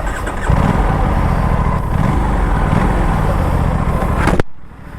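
An Aprilia RS457 sport motorcycle fires up and revs loudly close by, a throaty engine roar that swells and holds before cutting off abruptly near the end.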